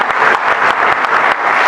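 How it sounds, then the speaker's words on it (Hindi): Audience applause at a Hindi comic poetry gathering, a steady burst of many hands clapping together, with sharp individual claps standing out throughout and no talking. "आपको एक बार इनके लिए सम्मान में ताली बजा दीजिए"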